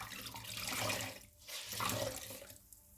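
Hot water runs from a tap into a sink in a continuous close splashing stream, briefly dropping away twice as the flow is interrupted or shifted.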